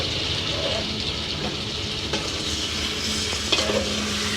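Loitta fish curry gets stirred in a sizzling pan, a close steady frying hiss with occasional scraping knocks of the spoon against the pan.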